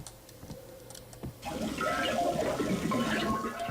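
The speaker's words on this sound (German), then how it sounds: "Wasser fließt." Running water in the Max Payne video game, a steady rushing flow that starts abruptly partway through and continues loudly to the end, with a few faint clicks before it.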